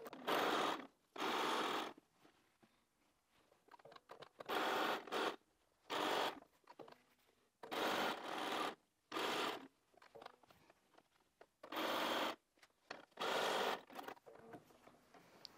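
A domestic sewing machine chain-pieces quilt fabric pieces for a Railroad / Sawtooth Star block in repeated bursts of steady stitching, each lasting a second or two, separated by short quiet pauses as the fabric is fed through.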